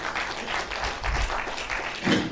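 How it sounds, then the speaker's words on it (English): Audience clapping for the Vice Chancellor at a university tech conference, a faint, steady patter of many hands heard from a distance and lasting only a couple of seconds. "I think we should clap for the Vice Chancellor."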